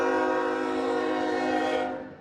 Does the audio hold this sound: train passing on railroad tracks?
yes